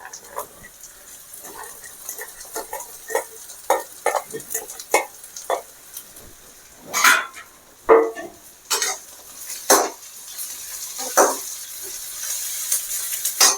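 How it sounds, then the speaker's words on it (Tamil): Broad beans sautéing with onion, grated coconut and oil in a pan, a quiet sizzle broken by irregular scraping stirs and spoon knocks against the metal, growing busier and louder toward the end. "அவரைக்காயை நல்லா வதக்கணும்"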